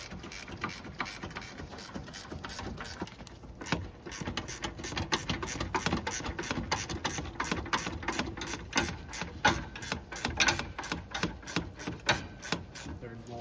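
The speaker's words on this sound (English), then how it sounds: "I'm gonna try to hit it with the ratchet wrench, also a 10mm." Ratchet wrench undoing 10mm bolts on a 2007-2011 Toyota Camry 2.5L, giving fast repeated clicking bursts up close with brief pauses between strokes.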